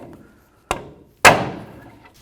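Two sharp metallic strikes, the second louder and ringing briefly, a hammer hitting a pry bar to break an inner tie rod free on a Dodge RAM 1500; a short quiet gap separates them.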